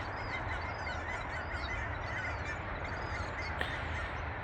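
Outdoor birds honk and call repeatedly, goose-like squawks rising and falling over a steady rushing background, moderately near with no talking.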